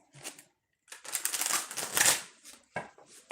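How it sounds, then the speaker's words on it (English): A tarot card deck is shuffled up close, giving quick papery riffles and soft crackling flutters in short bursts with brief pauses between them, heard alone without talk. "We'll shuffle the deck."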